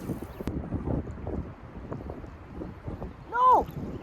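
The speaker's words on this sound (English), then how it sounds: "That's how it shows you how windy it is." Gusty wind buffets the microphone at a fishing pond, a low, rough rumble that rises and falls throughout, with a brief high squeal near the end.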